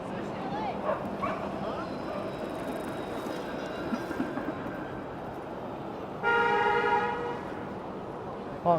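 A car horn sounds in Toronto city traffic as one sustained honk lasting about a second, standing out clearly over the steady street rumble and nearby voices.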